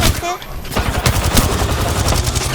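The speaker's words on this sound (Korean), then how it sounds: "쏘고 있어 쏘고 있어 쏘고 있어" Rapid automatic gunfire from Apex Legends, loud and dense bursts rattling steadily through the whole stretch, with excited player voices shouting over the shooting.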